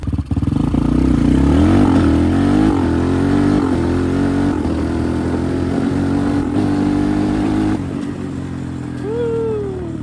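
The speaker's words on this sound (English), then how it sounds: "do a wide open throttle pull." A Titan 250 motorcycle makes a wide-open-throttle pull, its engine droning loud and steady for about eight seconds with the pitch climbing through gear changes, then dropping back toward the end.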